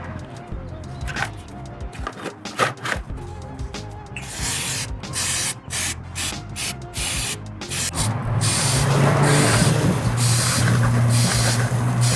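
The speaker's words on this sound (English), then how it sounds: "grab your piece of cardboard and your chain clean and spray the chain thoroughly" Chain cleaner hisses from an aerosol can onto a motorcycle chain in short bursts, then in a longer steady spray, close and fairly loud, with faint clicks and handling noise between bursts.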